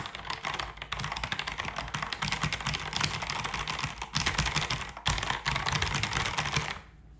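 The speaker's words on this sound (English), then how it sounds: "Another thing with the increased build quality is the sound of the keyboard." Fast, steady typing on a Kinesis Advantage360 ergonomic mechanical keyboard, close and continuous with dense overlapping keystrokes, fading out at the very end. No voices.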